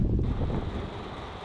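Wind gusts buffet the microphone outdoors near a pub, a steady low rumble of blowing air that holds for the whole moment with no voices.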